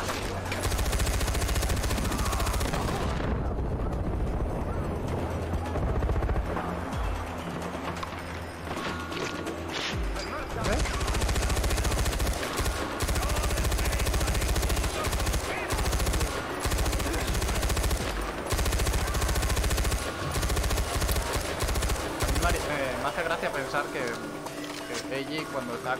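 Machine gun fire in the shooter game Far Cry 4 comes as loud, dense bursts of rapid shots, with clattering mechanical noise and crashes between them and someone talking over the gunfire.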